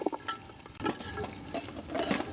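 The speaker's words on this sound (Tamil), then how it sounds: "வெங்காயம் வந்து கொஞ்சம் நல்லா வதங்கணும், அந்த பொன்னிறத்துக்கு வதங்கணும்" Onions sizzle softly in a hot pan as a spoon stirs and scrapes intermittently, quiet and close with no talking.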